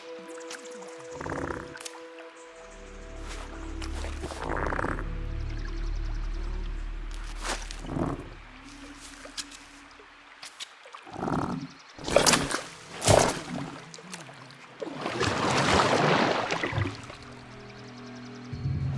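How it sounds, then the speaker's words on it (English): Watery gurgling and squishy liquid sounds in the video game The Last Campfire, scattered wet bursts with quiet gaps and a long bubbling swell near the end. "The gurgling of water, a deafening heartbeat"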